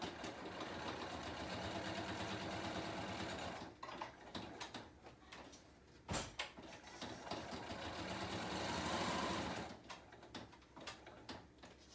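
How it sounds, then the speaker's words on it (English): A sewing machine stitches along three sides of a handmade paper journal, its fast motor whirring in long steady runs that stop and restart between short bursts, close and clear, with no speech. "I'm going to sew on these 3 sides."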